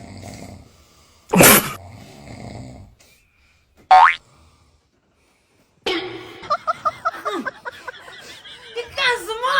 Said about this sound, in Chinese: 你那呼噜打的都整天